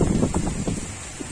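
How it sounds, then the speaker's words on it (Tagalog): Strong gusty wind from Typhoon Odette buffets and rumbles against the microphone in uneven bursts, with no voices. "Napakalakas dito ng hangin"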